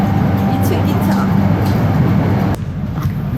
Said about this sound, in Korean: 2층 기차